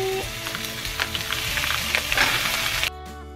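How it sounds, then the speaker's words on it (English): Diced onion and ground beef sizzle in a pan with browning potatoes, a steady, fairly close frying crackle with occasional stirring scrapes, cutting off shortly before the end. "Gonna add in a little bit of diced onion, ground beef"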